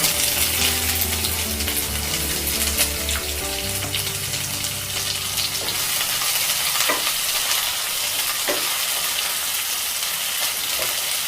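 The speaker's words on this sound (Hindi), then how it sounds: "कांदा अच्छे से चलाएंगे, थोड़ा सा इसको पका के" Chopped onion stirred and fried with panch phoron in hot oil, a steady bright sizzle with scraping stir strokes and occasional sharper clicks of the spoon against the pan, close and continuous without speech.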